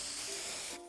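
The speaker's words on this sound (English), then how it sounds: "One spray to victory, Fluffy Tail Hairspray!" A can of Fluffy Tail Hairspray sprays in the video game Neverness to Everness, giving one steady, loud hiss that runs nearly a second before cutting off abruptly.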